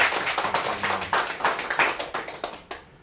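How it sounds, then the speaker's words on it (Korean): A church congregation claps together during an Easter service, a dense burst of rapid rhythmic hand claps lasting a few seconds before fading out. "우리 박수 한번 칠까요?"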